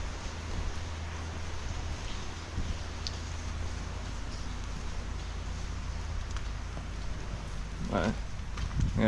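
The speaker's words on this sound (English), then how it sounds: "It's just raining and making a mess out of everything." Steady rain falls on a muddy dairy farm, a constant broadband hiss with scattered drops and a few brief louder knocks near the end, no voices present.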